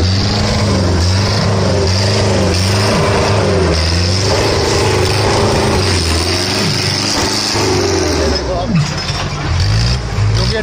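A loud, steady non-turbo Di 750 tractor engine drones throughout, its low rumble rising and dipping slightly with changing load, close by.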